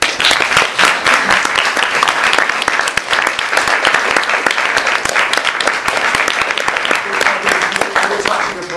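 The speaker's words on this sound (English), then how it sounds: "join me in a round of applause" A lecture-hall audience applauds after a science and religion discussion: dense, steady clapping from many hands that holds at full strength for the whole stretch.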